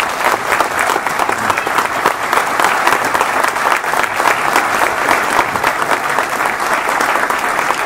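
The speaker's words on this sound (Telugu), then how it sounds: "కాబట్టి అలాంటి వ్యక్తికి మరొక్కసారి మీ కరతాళ ధ్వనులతో" Sustained audience applause after a science club lecture in Hyderabad, a loud, dense, continuous clapping from a large crowd that holds steady for several seconds without speech.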